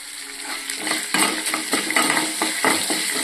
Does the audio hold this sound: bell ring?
no